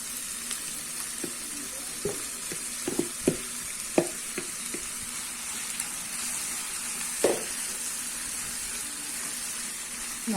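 Soaked rice flakes (aval) with vegetables frying in a pan for upma, a steady close sizzle with several soft clacks and scrapes from stirring spread across it.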